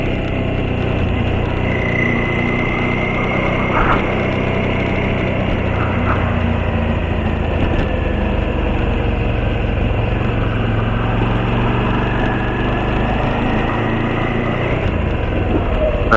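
A motorcycle engine runs at a steady idle for a long stretch with a low constant rumble, loud and close. A faint higher whine drifts in and out above it.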